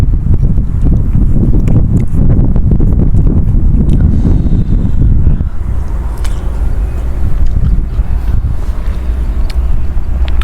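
Cool evening wind blowing outdoors in rural Isan, Thailand, a loud steady rushing roar buffeting the microphone, easing slightly partway through, with no talk.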